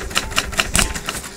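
Typewriter keys strike in a quick run of about seven sharp, close clacks, each key hitting through an ink ribbon to print a letter, with no talking over them.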